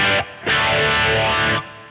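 Electric guitar played through a Peavey Vypyr X2 modeling amp with reverb added and no delay, two distorted strums ringing out with a reverberant tail and a short gap between them.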